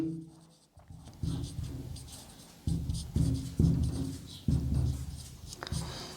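Marker or chalk scratches across a board in an electrician theory lesson on magnetism, in several short bursts of writing strokes separated by brief pauses, close and fairly quiet.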